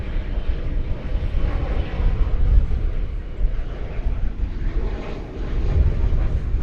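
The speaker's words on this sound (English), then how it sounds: "American Flight 1940, arriving from Memphis, Tennessee, a 737-800. This appears to be arriving on 18 left" An American Airlines Boeing 737-800 lands at DFW Airport on runway 18 left, its engines a deep, steady rumbling roar heard from a distance, rising and falling slightly without pause.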